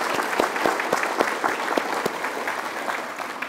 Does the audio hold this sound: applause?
yes